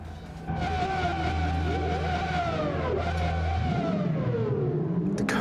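A race car lapping Imola in a racing game, its engine tone rising through the gears, then dropping sharply under braking with tire scrub, loud and close with no talk.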